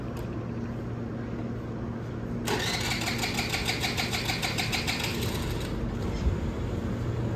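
A vehicle left standing for days cranks and catches, its engine settling into a steady rough idle with a rhythmic clatter close by, after a quieter stretch of background hum.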